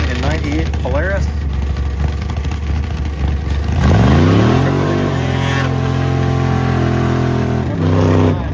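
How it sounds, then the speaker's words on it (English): A 1998 Polaris engine at an airport drag race, heard from a distance and revving up, then climbing in pitch as it pulls away, with a public-address announcer talking over the racetrack noise. "Robert is driving a 98 Polaris."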